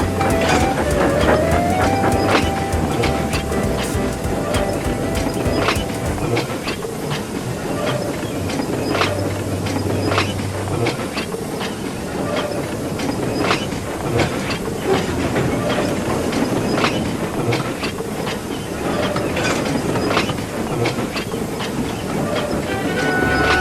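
A freight train rumbles steadily along with continuous clatter and hissing, dense rhythmic rail noise throughout with no voices.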